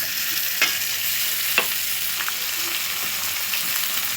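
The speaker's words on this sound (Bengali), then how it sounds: "পেঁয়াজ থেতো দিলাম পেঁয়াজটা ভাজা ভাজা হয়ে গেছে" Crushed onion fries in leftover fish oil for a katla curry, a low steady sizzle broken by a few light stirring scrapes and spoon taps.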